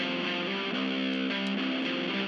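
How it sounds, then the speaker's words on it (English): Intro guitar of a rock song run through a small-speaker simulation plugin, giving a narrow, boxy and steadily loud sustained distorted tone over a couple of seconds with no voices. "The speakers plugin is on the intro guitar to have a smaller speaker sound."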